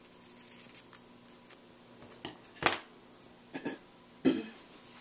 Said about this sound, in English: I'm just going to cut it straight off.